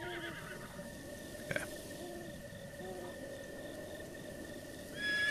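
A horse whinnies in Zelda Breath of the Wild, a faint drawn-out neigh over a quiet ambient game backdrop with a soft thump partway through.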